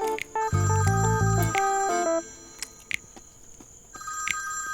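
A telephone rings loudly and close with a melodic electronic ringtone, a run of stepped tones followed by repeated chirps, with no talking over it.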